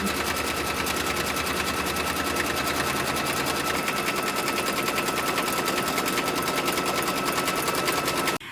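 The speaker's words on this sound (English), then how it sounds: "thing it's going to stitch out is going to be the placement line for the batting" An embroidery machine stitches out the placement line for pre-cut batting, a steady, dense mechanical rattle of rapid needle strokes running continuously at close range for about eight seconds before stopping abruptly.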